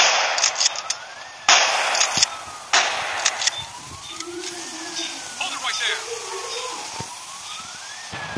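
Police car siren in Rope Hero Vice Town, a wailing tone rising and falling across the clip, mixed with sharp gunshot-like bangs and game effects, with a voice speaking over it.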